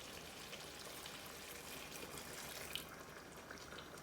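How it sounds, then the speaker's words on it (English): Water poured into a pan of Bangladeshi chicken curry with okra, a steady soft splashing stream lasting a few seconds, fairly quiet and close, with no voices. "I'm going to add a bit of water"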